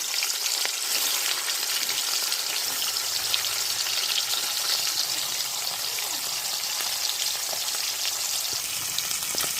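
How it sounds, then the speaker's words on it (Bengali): Pieces of katla fish fry in hot oil in a kadai, giving a loud, dense, steady sizzle and crackle that fills the whole stretch with no talking. "তো চলো এখানে এবার মাছগুলো আমি ভেজে নেব।"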